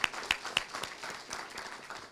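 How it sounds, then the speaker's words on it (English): Graduates at a girls' institute graduation ceremony applaud together, a soft, steady round of clapping heard at a distance in a large room, with a few sharper claps standing out at the start. "So give yourselves a round of applause."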